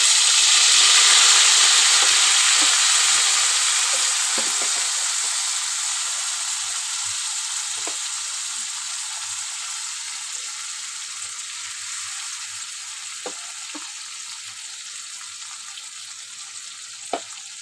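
A paste of mustard, poppy seed, green chili and turmeric hits a hot pan with a loud, steady sizzle that gradually softens, punctuated by a few faint clicks of stirring; no one speaks.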